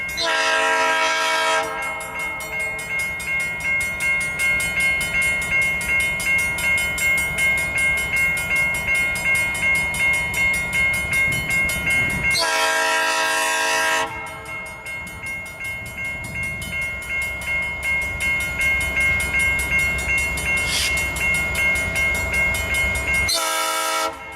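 A Norfolk Southern GP50 diesel locomotive leads a train rumbling past nearby with steady clattering wheels, its loud horn blasting at the start, again midway, and at the end.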